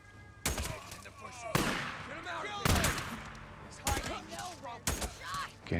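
Gunfire aimed at headshots in the video game Days Gone: five sharp, loud shots spaced about a second apart, each followed by a brief ringing decay, with some game voices in between.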